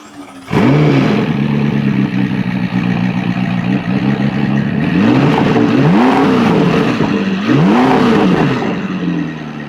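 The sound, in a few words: McLaren car engine revving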